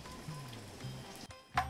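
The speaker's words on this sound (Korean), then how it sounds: "노릇노릇 맛있게 구워집니다" Korean hanwoo beef grilling on a rainy day, giving a faint, steady sizzle with a brief louder crackle near the end and no talk.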